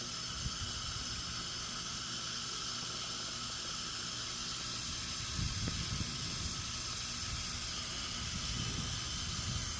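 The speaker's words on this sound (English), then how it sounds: "I just water them while they're being weeded" A garden hose sprays water over pineapple plants during weeding in a south Florida yard, giving a steady broad hiss throughout with a few brief splashy bursts, with no talking.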